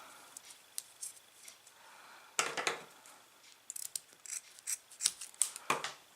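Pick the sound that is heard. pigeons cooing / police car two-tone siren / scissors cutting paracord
scissors cutting paracord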